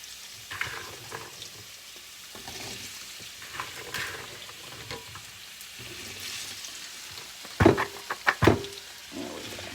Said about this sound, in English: I've got a potato in there, and see, it's starting to sizzle.